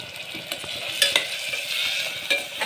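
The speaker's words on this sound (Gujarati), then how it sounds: "આ મસાલાને આપણે તેલની અંદર સાતળશું" Turmeric, red chili powder and salt sizzle in hot oil while being stirred for potato rice. A steady crackling hiss runs under the scraping of a spoon in the pan, close up, with no speech.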